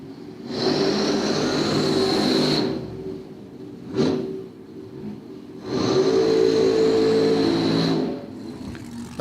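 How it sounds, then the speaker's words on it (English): A supercharged big-block drag engine at Cordova Dragway roars in loud bursts, a sharp rev in between, then another long howling run before dropping off. "I hear a lot of blown big block action as they fire these monsters up."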